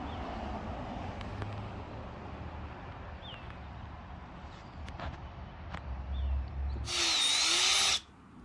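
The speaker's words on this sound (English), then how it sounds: "So I drilled 4 holes" A power drill bores a hole for a CB radio antenna bracket on a RAV4 TRD, a single loud whirring burst of about one second that stops abruptly, following quieter ambient noise.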